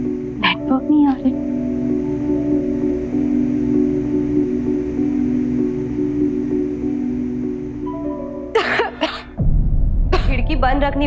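A woman coughs close by in a drama scene, a short burst of coughs at the start and rough coughing again near the end, over a steady hum and background voices.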